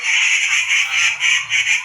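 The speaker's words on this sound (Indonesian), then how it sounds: "Tuh, banyak burung." Many birds call together in a loud, continuous chorus of high chattering and honking cries outdoors in Nangkang, Taipei, pulsing in waves with no talk.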